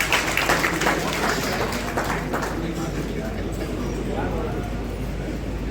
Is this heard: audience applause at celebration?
yes